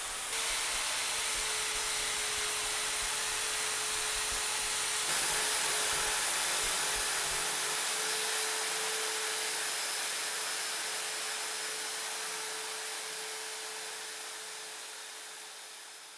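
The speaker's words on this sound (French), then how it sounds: "La ponceuse à cylindre est idéale pour travailler les pièces courbes ou chantournées." A Triton TSPSP650 spindle sander works wood with a steady high whine and loud hiss. The grinding contact noise drops out about halfway through, and the motor then slowly winds down.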